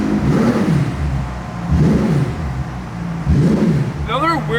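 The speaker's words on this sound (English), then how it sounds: "we gotta give you guys some more revs" A McLaren 720S supercar engine revs loud and close in three rising-and-falling blips, its deep mid-range roar surging and fading; a sharp whine tops the final rev.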